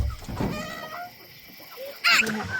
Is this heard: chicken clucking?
yes